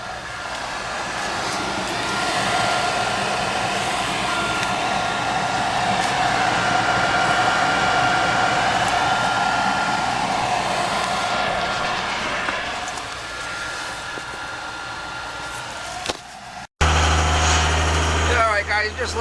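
A heating system's power venter runs with a steady, loud motorized drone and whir that swells slightly, then cuts off abruptly near the end, followed by a louder, rougher hum and brief handling noise.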